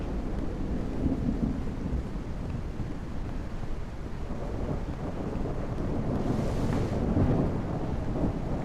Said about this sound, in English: the rain sounds really good